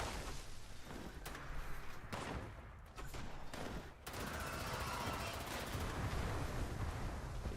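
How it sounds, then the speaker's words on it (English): Gunfire in the game Fallout 76, dense bursts of rapid shots and volleys with brief pauses, loud and continuous through most of the stretch. "Stop shooting me."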